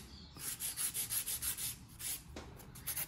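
A nail file rasps repeatedly across French-tip nail polish while a sister's nails are being done, giving about a dozen short, close strokes in a steady back-and-forth rhythm with no talk.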